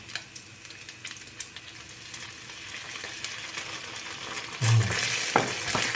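Pork stir-frying in a pan as oyster sauce goes in, a steady close sizzle and scrape that swells into a louder, brighter hiss near the end.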